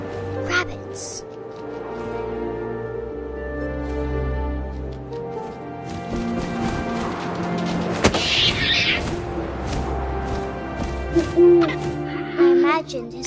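An owl hoots in the video game What Remains of Edith Finch, soft repeated hoots set among wind and low booming ambience, with a narrating voice talking over much of it.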